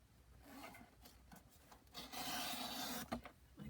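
Paper trimmer blade slicing through paper for a junk journal folio insert, a close rasping, rubbing cut that swells louder over the second half, with no talking.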